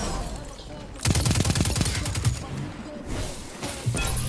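Gunfire in the Destiny 2 shooter game, with a dense burst of rapid shots sounding loud and close, followed by a few further shots amid game noise and a voice.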